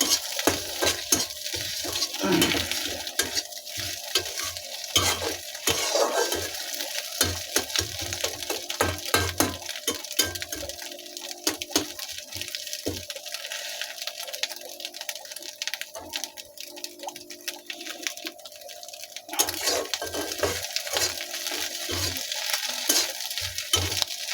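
Continuous sizzle of egg and onion frying in a pan for a noodle dish, with frequent spatula scrapes and taps as the food is stirred throughout.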